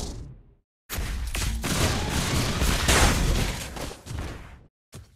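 Rapid gunfire and booming blasts in a multiplayer battle game, a dense loud barrage lasting several seconds after a brief silence, then a short final burst.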